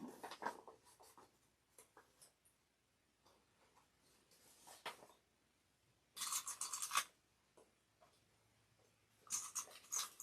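Scissors snipping fabric into curves, heard as faint, close, crisp cuts in scattered clusters, with two louder bursts of snipping later on against a quiet background.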